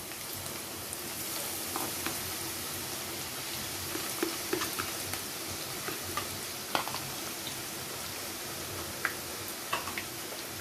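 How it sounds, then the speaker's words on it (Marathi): Finely chopped onion frying in a pan on medium heat, a continuous gentle sizzle with scattered ticking pops and a few stirring clicks, close and steady, no voices. "तीन 4 मिनिटं आपण कांदा परतून घ्यायचा आहे मध्यम गॅसवर"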